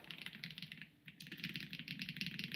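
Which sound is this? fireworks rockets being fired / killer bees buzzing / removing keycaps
removing keycaps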